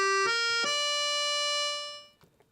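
Roland FR-4X digital accordion's clarinet register with the sordina switched on: a few soft, mellow reed notes, the last held and fading over about two seconds, close and alone without talk.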